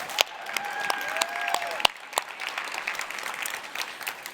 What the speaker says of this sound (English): Let's give a round of applause for Hugh.